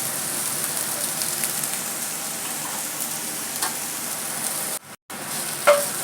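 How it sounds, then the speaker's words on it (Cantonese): Asparagus frying in a pan over medium-low heat, giving a steady, soft, even sizzle throughout with no talk, broken by a brief near-silent gap late on. "等佢慢慢煎一煎先"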